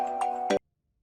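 A phone ringtone signals an incoming call: a short, bright electronic chime of about half a second, with a few quick tonal pulses that cut off abruptly into silence.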